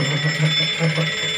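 Alarm clock ringing: a steady, continuous metallic ring that holds at an even loudness for the whole stretch with no pauses.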